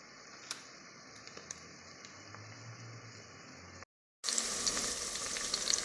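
Cinnamon and bay leaf frying in hot oil, a steady soft sizzle that cuts out briefly and then returns louder and fuller, with no talking.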